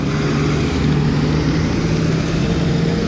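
Revolt RV 400 electric motorcycle ridden through Banjara Hills, with a steady close rush of wind and road noise plus a faint motor whine holding constant throughout, with no talk.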